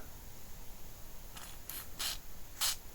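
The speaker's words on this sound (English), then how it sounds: "So a tiny bit of the silicone spray," Silicone spray is applied to the parts of a Toshiba V8600 Beta VCR in three or four short, soft hissing bursts over quiet background noise.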